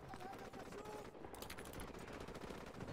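Gunfire in Call of Duty Modern Warfare Remastered, a rapid dense burst of automatic shots rattling continuously for about three seconds, loud and close with no break.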